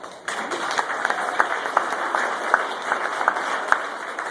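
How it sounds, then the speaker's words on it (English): Wedding guests at a rehearsal gathering applaud together in a continuous, moderately loud patter of many hands, with a few sharper individual claps standing out over a faint background hum. "Everybody give themselves a round of applause there."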